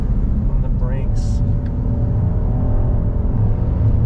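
Engine note of a 2022 Genesis GV70 SUV rising and falling as it brakes and downshifts, a steady low rumble throughout with a brief rev near the start.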